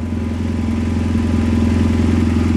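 A BMW F800GS motorcycle engine on a dyno drones with a loud, steady, throbbing tone and no clear rise in revs, running alone without voices.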